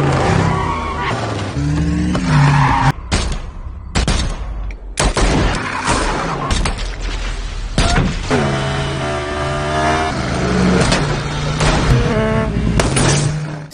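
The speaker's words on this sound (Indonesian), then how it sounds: "Pada Brian segera menginjak gas lagi" A car in an action film chase roars hard and skids, with screeching tires and sharp bangs like gunfire. Loud, chaotic engine noise runs throughout, mixed with a film score.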